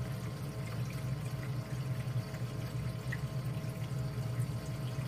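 Water flows steadily through an aquarium reactor filled with Miracle Mud, making a constant rushing, pouring hiss with no pauses and no voices.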